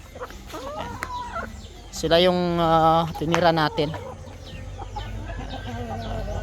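Brazilian Ganoy chickens cluck and call close by on a farm, with one loud, drawn-out harmonic squawk in the middle, while someone speaks briefly over them.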